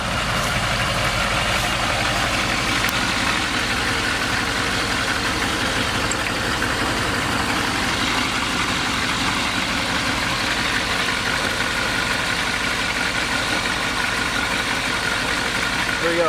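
A HMMWV Humvee engine runs steadily at a low, even idle while being shifted into low gear, a continuous rumble lasting throughout with faint voices underneath.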